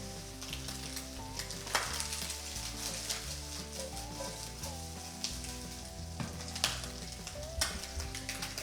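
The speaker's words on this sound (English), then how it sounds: "The bacon, you need to cook it until it's crispy." Bacon sizzles and crackles steadily in a frying pan as it crisps, a continuous close hiss with occasional sharper pops and no talking.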